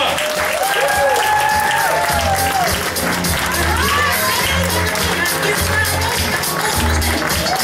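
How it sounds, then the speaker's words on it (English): A crowd at a comedy show applauds and cheers as a comedian is welcomed to the stage, with steady dense clapping throughout and a voice speaking over it. "Ladies and gentlemen, please put your hands together, make some noise."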